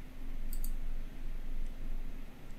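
Two quick computer mouse clicks sound close together early on, crisp and brief over a low steady hum, with one faint click later.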